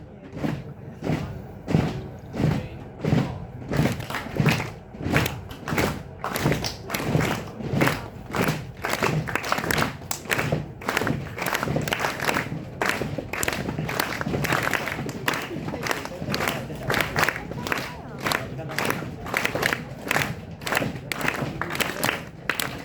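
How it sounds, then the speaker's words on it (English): Students in a classroom stomp their feet together in a steady beat, a long run of rhythmic thuds at an even pulse, with scattered claps and crowd noise mixed in. "those who are stomping their feet, that is what we call a beat"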